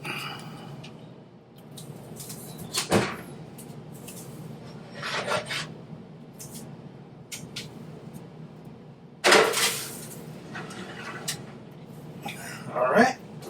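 A cheesecake in a water bath is slid into the oven, with scraping and rubbing of pans and racks in several separate bursts against a quiet kitchen background.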